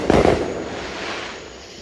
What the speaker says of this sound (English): I finally got some good footage of the fireworks here.